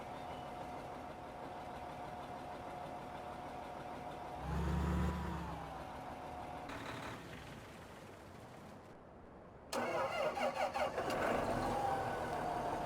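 Engine of a John Deere 8530 tractor in Farming Simulator 15, heard from inside the cab as a steady, muffled idle with a brief louder rev partway through and a harsher, brighter burst near the end.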